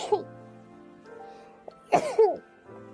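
A girl's sudden sneeze bursts out near the end, close and sharp, after a quieter throat sound and breathy murmurs earlier, with faint game music underneath.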